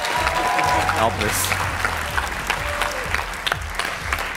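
Studio audience applause at an X-Factor Armenia audition round, sustained clapping that fills the room while a presenter speaks over it.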